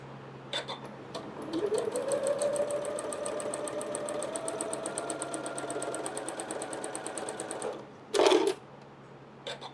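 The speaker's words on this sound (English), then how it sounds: "we are going to sew on one side of this line and then on the other side, 1/4 of an inch on one side" A sewing machine stitches quilt block pieces in a steady fast rattling run of rapid needle strokes for several seconds, with a rising motor whine at the start and a short loud mechanical clunk near the end, close and without speech.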